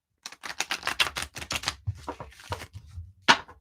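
Playing cards riffle and snap in quick, rapid clicking bursts close by, pausing briefly before a final sharp flick.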